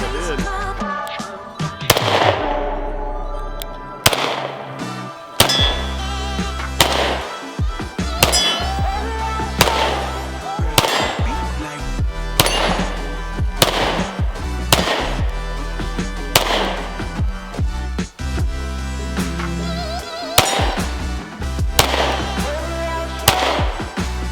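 A Smith and Wesson CSX pistol fired repeatedly, with more than a dozen loud, sharp reports at uneven intervals, each followed by a short echo, close by.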